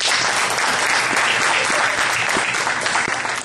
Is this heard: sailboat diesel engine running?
no